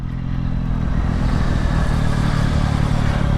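Yamaha MT-09 Y-AMT motorcycle being ridden, a steady, loud engine drone with low rumbling and wind noise held at relaxed cruising revs throughout, no voices.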